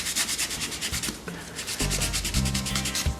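A balled-up cloth rubs back and forth over a wall, wiping excess putty away in quick, close, rhythmic strokes of dry scrubbing friction with no talk.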